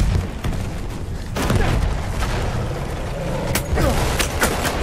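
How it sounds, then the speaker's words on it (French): An enemy grenade goes off in Battlefield 1 during a Conquest match at a castle, a muffled boom rising amid ongoing gunfire and battle noise. "Il a jeté une grenade."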